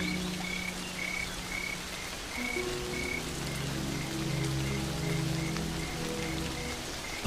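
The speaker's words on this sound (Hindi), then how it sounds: "इस तरह अचानक मूसलाधार बारिश होना अजीब है" Sudden heavy downpour on the open Serengeti plains, steady rain hiss drumming on surfaces throughout, with frogs croaking in repeated calls beneath it and a regular chirping pulse above.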